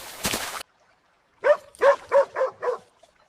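A dog gives a run of five quick, yelping barks in close succession, clear and near, after a short burst of noise and a brief silence.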